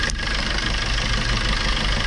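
A Maruti Suzuki Swift Dzire 1.2-litre diesel engine with blow-by runs steadily close by, producing a constant dense rumbling clatter with no pauses and no voices.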